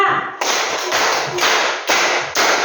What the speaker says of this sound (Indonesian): Tepuk tangan 5.